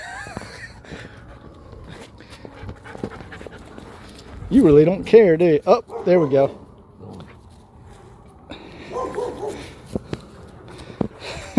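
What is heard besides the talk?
puppy panting and barking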